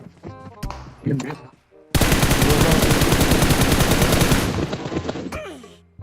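Rapid automatic gunfire from the PUBG Mobile battle royale game, a loud sustained burst of closely spaced shots after a few scattered single shots, with brief voices over the opening.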